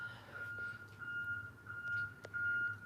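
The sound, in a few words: truck reversing beeps outside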